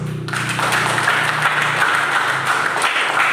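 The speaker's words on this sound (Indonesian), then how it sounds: "Aplaus untuk Indonesia" Applause from a classroom audience celebrating Indonesia, a broad steady wash of many hands clapping at once, fairly loud and sustained throughout without clear individual claps standing out.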